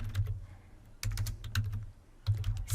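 Fast typing on a computer keyboard, close clustered clicks in three bursts with a low hum underneath and no voices.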